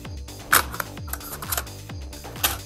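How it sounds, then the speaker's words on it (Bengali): Plastic back cover of a Dell Latitude E6430 laptop being fitted into place, giving a few sharp clicks and snaps with soft handling rattles between them, close up and alone. "আমাদের ব্যাক কাভারটি আমরা এখানে লাগিয়ে দিচ্ছি।"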